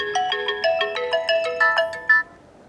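An incoming call sets off a phone ringtone, a loud, close electronic melody of bright repeating beeps in a quick rhythmic pattern that stops abruptly after a couple of seconds, with no voices.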